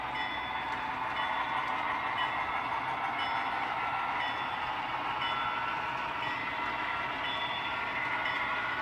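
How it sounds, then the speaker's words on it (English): A yard bell rings steadily and without pause for several seconds from an HO scale model locomotive's sound system, loud and close, with no voices over it. "The yard bell."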